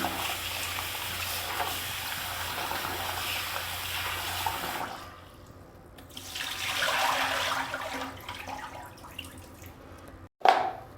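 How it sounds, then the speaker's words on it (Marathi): Tap water runs steadily over bitter gourds in a sink for several seconds, then pauses and resumes more softly before a brief sharp clatter near the end. "चला आपण कारले धुवून घेऊया कारले धुवून घेऊ चांगले आपण"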